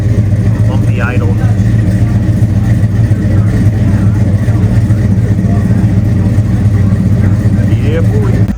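Car engine with a lumpy, uneven idle at a cars-and-coffee meet, a loud, close, steady low rumble throughout, with someone talking over it.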